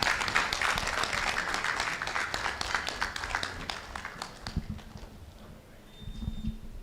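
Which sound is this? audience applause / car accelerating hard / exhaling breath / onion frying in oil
audience applause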